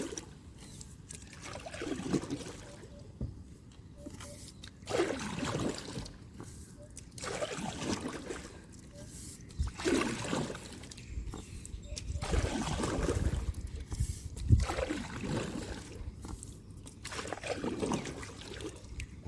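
A small rowboat is paddled along a canal under a bridge in morning sun, oar strokes recurring in a slow rhythm with water trickling and splashing near the hull, and a voice speaking at times over the water.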